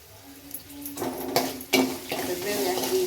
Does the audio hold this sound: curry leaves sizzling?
yes